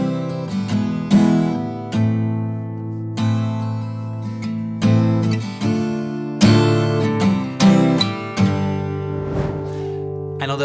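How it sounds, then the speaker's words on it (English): Acoustic guitar strums a slow progression of ringing open chords, each strum sustaining before the next change, with no voice. "I was playing this chord progression just based on a few open chords."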